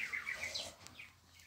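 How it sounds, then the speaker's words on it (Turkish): A pet bird chirping indoors in a short burst of bright, repeated tweets, fairly close and fading out after about a second. "Burada benim kuşum Mert Kuş var."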